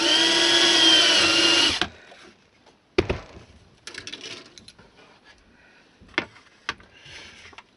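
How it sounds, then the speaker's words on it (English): A small power drill whines steadily for a couple of seconds while drilling holes in a plastic HO-scale model building kit, then stops, followed by scattered clicks and handling knocks. "So let me just get a drill and make those holes quickly"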